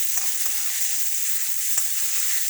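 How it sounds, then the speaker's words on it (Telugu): Steady crackling sizzle of onions frying in a hot pan, with a few soft stirring scrapes, close and continuous without talk. "ఈ ఉల్లిపాయలు వేగుతూ ఉన్న టైంలోనే"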